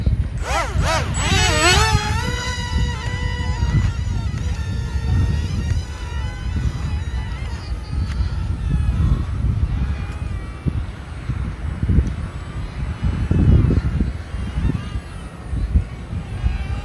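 Small electric motor of a ZY-530 Pro RC airplane spinning up during a hand-launch takeoff, a high whine that rises sharply at first then settles into a buzzing drone as it flies off, with some handling noise.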